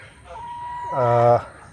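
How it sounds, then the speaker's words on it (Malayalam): Native country chickens in a coop, one bird giving a loud, close, drawn-out cluck or call that rises near the end, alone over a quiet background. "ചേട്ടാ ഇതാണ് എൻ്റെ കോഴികൾ"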